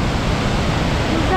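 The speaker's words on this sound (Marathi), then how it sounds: "आता बघा धबधब्याचा आवाज" Roar of a waterfall at Bhandardara, a loud continuous broadband rush of falling water heard up close, steady with no breaks.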